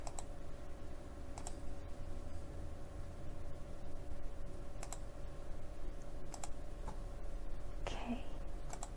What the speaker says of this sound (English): I'm going to use the up arrow on my keyboard and then save it as a JPEG.